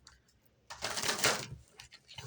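A quick burst of tarot cards being riffled and shuffled, close and crisp, lasting under a second amid faint rustling.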